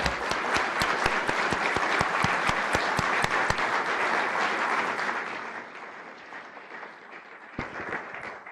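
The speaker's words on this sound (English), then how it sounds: "Would you join me for one more round of applause for these great new leaders?" Applause from a crowd at a city council inauguration honoring newly sworn-in council members, dense clapping that holds for about five seconds and then thins and fades into scattered claps.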